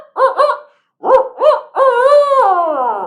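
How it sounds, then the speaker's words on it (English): A barred owl gives its rhythmic 'who cooks for you' call: two paired hoots, a pause, two more, then a long drawn-out descending hoot, loud and clear with no talking. "I'll pay the barred owl royalties for that song."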